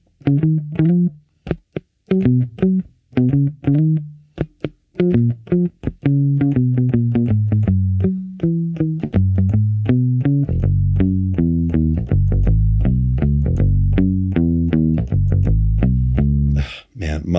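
Short-scale Mustang bass guitar strung with Dunlop strings, picked through spring reverb: a close, loud, melodic line of short staccato notes that gives way to smoother, sustained runs lower on the neck, with no talking over it.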